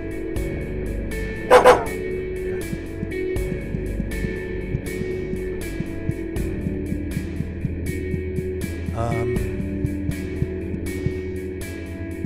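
Inside the horror game Psychopomp, a dog gives one short bark early on and a fainter yelp later, both set against a droning, buzzing musical backdrop.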